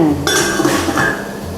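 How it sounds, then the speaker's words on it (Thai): A metal lid clinks shut onto a pressure cooker pot, a sharp ringing clatter followed by a brief rattle, close and fairly loud with kitchen room tone around it. "อ่าลืมปิดฝาปิดฝาก่อนค่ะ"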